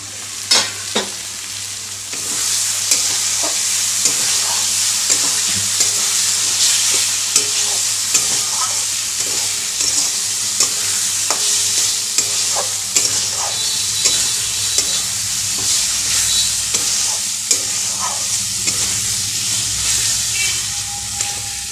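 Fried potatoes stirred into an elephant foot yam curry bubbling in oil give a steady, loud sizzle with repeated scraping clicks of the spoon, close up and continuous, no voices.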